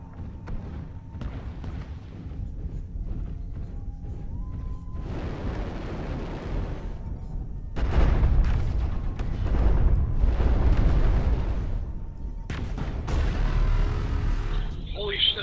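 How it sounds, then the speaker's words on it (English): Heavy bombing explosions in MechWarrior Online rumble as deep, rolling booms in several long swells, loud and close, with someone talking over the blasts. "Bombing a hill."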